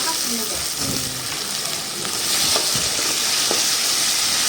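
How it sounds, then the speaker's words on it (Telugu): Tomato pieces frying in a pan with onions and curry leaves while cooking tomato palakura, a steady close sizzle with stirring scrapes, and a voice talking over it. "ఇప్పుడు మనం టమాటా ముక్కలు వేసేసుకుందాం"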